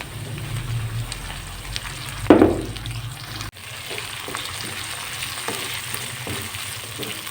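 Chopped tomato frying lightly in a pan with ginger-garlic paste, a steady close sizzle with a louder burst as it hits the oil, then continuing evenly.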